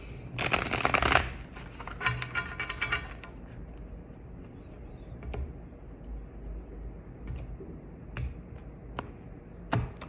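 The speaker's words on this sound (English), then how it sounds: "Just one more shuffle." Tarot cards being shuffled by hand in a quiet room, with a dense, loud riffling burst near the start, then softer scattered card taps and flicks.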